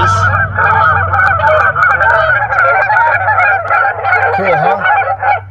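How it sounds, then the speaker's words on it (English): A Little Big Horn 25 watt digital game caller plays a loud goose call, a dense chorus of repeated honks close up, with a faint voice at the start. "Geese."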